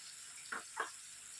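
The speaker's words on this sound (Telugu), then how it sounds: "విధంగా నీళ్లు పోసుకొని బాగా ఈ విధంగా చేత్తో ఈ విధంగా అంటూ రొయ్య పొట్టును కడగాలండి" Water swishes briefly twice as dried prawn shells are rinsed by hand in a bowl, two short splashy bursts over a soft steady background hiss.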